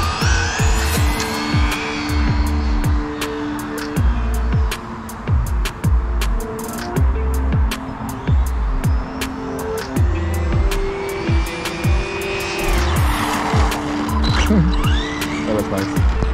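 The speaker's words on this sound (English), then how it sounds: "I have an idea to come down fast from that side and do a power slide on this corner." A stock Arrma Infraction 4x4 3S RC car races down fast and power slides through a corner, its loud electric motor whining steadily with rising and falling pitch across the whole stretch.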